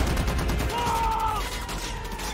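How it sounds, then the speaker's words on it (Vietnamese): Heavy machine gun fire in a bank heist film, a dense continuous rattle of rapid shots under a loud action mix, with a brief tonal whine passing through midway. "Giám đốc ngân hàng vác súng máy hạng nặng."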